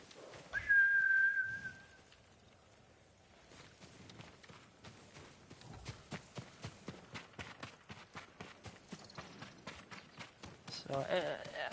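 Horse hooves clop in a steady, rapid rhythm in the video game Ghost of Tsushima, building after an opening whistle and growing louder toward the end.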